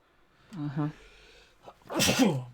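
A man sneezes once, close and loud, on a podcast recording, following a brief bit of nearby talk and a smaller throat noise.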